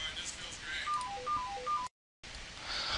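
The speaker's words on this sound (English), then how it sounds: "hold on, my phone's ringing." A mobile phone ringtone plays as a short run of faint melodic beeps over background hiss, followed by a brief silent gap.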